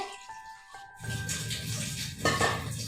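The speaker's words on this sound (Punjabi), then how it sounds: "ਭਾਂਡੇ ਵਗੈਰਾ ਮੈਂ ਮਾਂਜ ਲੇ" Dishes and utensils being scrubbed and washed, with clattering of pots and cutlery and running water close by, busier and louder in the second half, with no talk.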